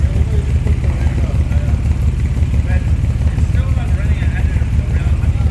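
A steady, rumbling engine of a 1938 SS Jaguar 3½ Litre drophead idles continuously at close range, with faint voices murmuring over the low drone.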